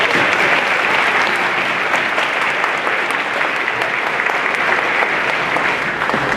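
An audience at a middle school eighth grade moving-up ceremony applauds steadily, a dense, even wash of many hands clapping that holds at full strength throughout.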